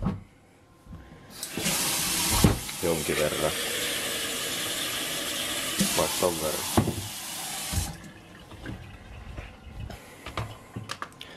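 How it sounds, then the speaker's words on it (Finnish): Tap water runs into a container at a kitchen sink for several seconds, steady and fairly close, while a person speaks briefly over it before it stops. "Sitten pistetään sinne vettä kanssa."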